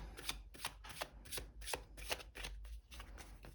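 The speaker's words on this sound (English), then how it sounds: "We'll do one last shuffle." Tarot cards are shuffled in quick, crisp riffles, about a dozen rhythmic bursts close by with no talking.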